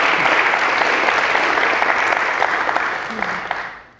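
A university audience gives a sustained round of applause for the Husson University president, loud and dense throughout before thinning and fading out at the end.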